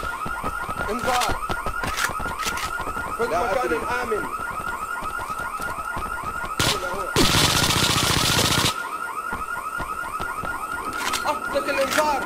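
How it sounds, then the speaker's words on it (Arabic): A rapid, warbling electronic alarm keeps cycling in IGI 2, loud and continuous, with gunfire bursts and a brief loud noise blast breaking in, while voices talk over it in Arabic. "أطلق الانذار."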